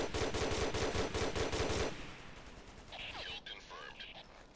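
Rapid enemy machine-gun fire in the Ghost Recon video game, a dense, loud burst of rattling shots that stops abruptly, followed by quieter scattered battlefield noise and faint higher sounds.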